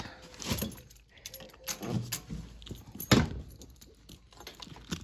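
Keys jangling beside a car while loading a beach bag into the trunk, several metallic rattling bursts spread across the stretch, with a louder clink near the end and faint outdoor background.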